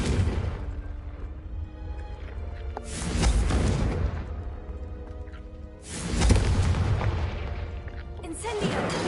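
Confringo blasting spell explosions in Hogwarts Legacy, roughly three deep booming bursts arriving a few seconds apart, each swelling loudly and then decaying into a rumbling tail, with the later blasts cut short.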